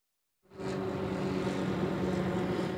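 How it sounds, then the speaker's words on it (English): Two police helicopters circle overhead during a suspect search near I-70 east and Mound Street after a shooting. After a brief silence, a steady, loud, droning rotor and engine rumble sets in and continues. "There are 2 police helicopters circling this area"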